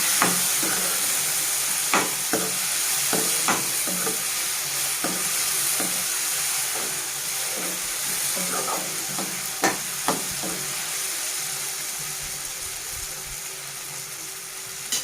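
Chopped tomatoes sizzle and fry steadily in a pan for tomato bath, with repeated scraping stirs of a spoon against the pan every second or two, close and continuous, no voices.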